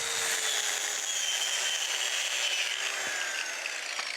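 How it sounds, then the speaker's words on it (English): A saw cuts through a wooden floating-deck framing board, guided by a speed square, giving a steady, close, loud grinding rasp that lasts the whole stretch without pause. "I'm going to use my speed square to hold my saw straight while I make the cut"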